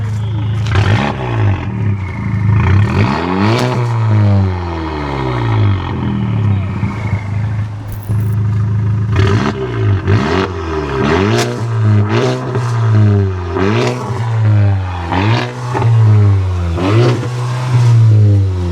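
The engine of a 2019 Volkswagen Jetta is revved hard in a series of loud, rising and falling bursts. Several quick throttle blips follow after a short pause.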